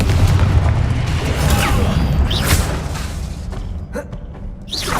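Confringo fire-blast spell being cast in Hogwarts Legacy: a dense, loud burst of rumbling booms and crackling whooshes that keeps going, with several sharp sweeping magical zips layered over the din.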